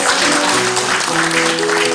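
Audience applause ahead of a guitar duo's performance, a dense steady patter of many hands clapping at close range, with a tonal hum running beneath it throughout.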